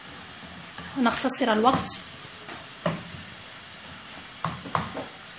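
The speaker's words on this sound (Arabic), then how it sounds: "نضيف إليها صدر الدجاج ليتشحر معها" Chicken breast fries in a pan with a soft background sizzle, broken by a few brief clatters and stirring sounds, while a person talks briefly over it near the start.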